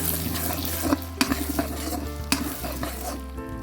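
Thinly sliced watermelon and three eggs stir-fry in a hot pan, a steady close sizzle broken by several sharp scrapes and taps of the spatula against the metal, with no one talking.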